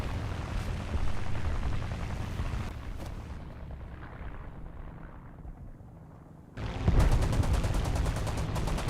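Heavy aircraft cannons firing in War Thunder air arcade combat, a dense roaring stream of rapid shots over engine drone that thins out midway, then bursts back loud and close in a fresh volley.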